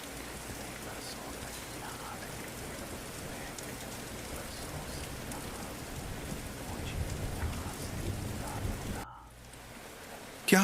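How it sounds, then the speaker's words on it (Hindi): Steady rain falling outside at night, a dense even hiss of raindrops on surfaces with a low rumble underneath, cutting off abruptly near the end as a story sound effect. "बाहर बारिश हो रही है"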